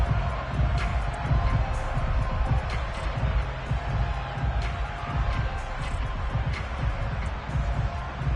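A home-team crowd roars steadily in the Madden 23 American football video game, a dense continuous stadium wash with no clear peaks.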